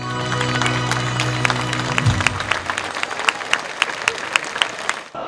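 An audience applauds after a song, dense steady clapping with sharp individual claps toward the end, following a sustained musical tone that fades out in the first two seconds.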